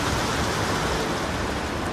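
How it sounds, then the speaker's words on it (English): Steady rain falling at an outdoor archaeological dig on the site of Wedgwood's first factory in Burslem, Stoke-on-Trent, a dense, even hiss with no pauses and no voices. "But even the rain isn't going to stop us now."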